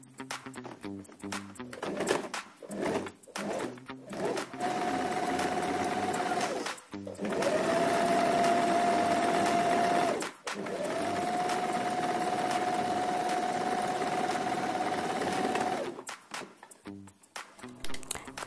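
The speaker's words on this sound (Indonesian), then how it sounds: "Kemudian kita jahit bagian sampingnya ya, biar lebih rapi." A sewing machine stitches a folded fabric strap for an instant hijab in two long, steady motor runs broken by a brief pause. Short bursts of handling sounds come before and after, and no one speaks.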